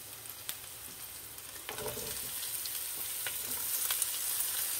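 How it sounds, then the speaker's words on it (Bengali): Broccoli tipped into a pan already frying onion, garlic and cumin, for a desi-style vegetable stir-fry, giving a steady close sizzle with a brief surge of crackle as it lands, then continuing hiss and a few stirring clinks. "রসুন অ্যান্ড জিরা পেঁয়াজ সব কিছুই আমার হয়ে গেছে আমি এখন এখানে এই ব্রোকলিটা ঢেলে দিব"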